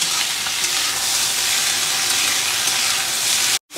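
Tendli (ivy gourd) frying in oil in a kadhai, a loud, steady, dense sizzle that fills the whole clip before cutting off abruptly near the end.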